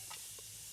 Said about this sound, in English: You can hear it sizzle as I put in the